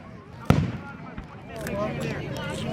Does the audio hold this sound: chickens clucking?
no